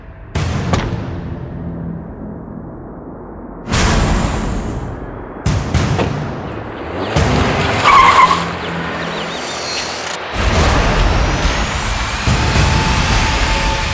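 A car speeds off with tyres skidding, giving loud screeching bursts and engine roars that cut in abruptly several times, close and harsh, with quieter gaps between them.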